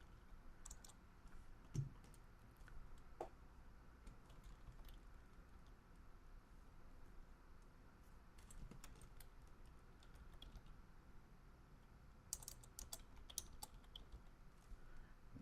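Quiet, steady typing on a computer keyboard, with soft irregular key clicks and a few brief bursts of faster tapping, heard close up with no talk.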